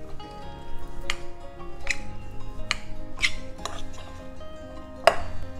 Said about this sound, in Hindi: अब सारी चीज़ों को हम अच्छे से मिला लेते हैं।